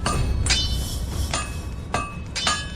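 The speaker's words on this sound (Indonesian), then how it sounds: "Palu tempa 1000 jin ini sudah 20 pukulan." A 1000-jin forging hammer striking steel, heard as four sharp metallic clangs spaced irregularly, each ringing briefly over a low continuous background rumble.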